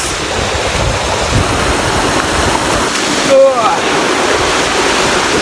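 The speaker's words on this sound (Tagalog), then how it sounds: "Mas malakas yung agos." A strong river current rushes in a steady, loud, close wash of water, with a brief whistle-like sound near the middle.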